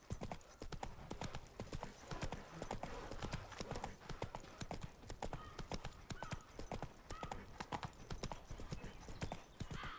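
A horse gallops in The Witcher 3, its hooves beating a fast, steady clip-clop rhythm close up and loud throughout, with a faint whinny and occasional voices underneath.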